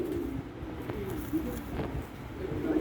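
Lal Lakh breed pigeons coo nearby in low, soft, rolling calls that repeat steadily over a faint background hum.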